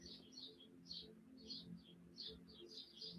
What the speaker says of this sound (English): I feel like the birds is louder than me right now.